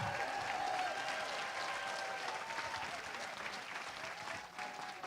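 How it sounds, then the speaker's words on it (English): Audience applause at the Western States 2023 awards ceremony, honoring the top ten men and women finishers; steady, dense clapping from a sizable crowd that fills the whole stretch at an even level. "let's have one more round of applause for our top 10 men and top 10 women."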